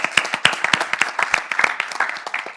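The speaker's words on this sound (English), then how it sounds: "Round of applause for Sipho, everybody" A live audience claps for a panel speaker at a youth safety event, a short close burst of sharp, fairly sparse handclaps.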